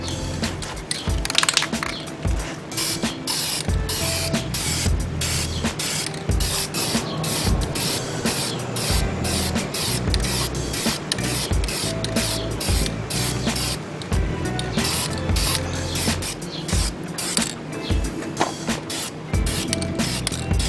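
VHT flame proof primer in white hisses loudly and continuously from a spray can onto the brake calipers of a 2017 Subaru Forester XT, with brief pauses and rattles between passes.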